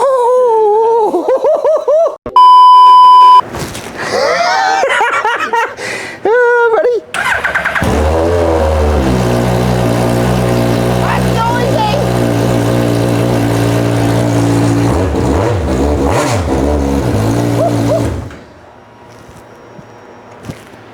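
A Hayabusa-engined Cup 200 car with no silencer fires up and revs hard, a loud raw engine roar with rising and falling revs that runs for about ten seconds, then settles to a quieter idle; a few voices come before the start.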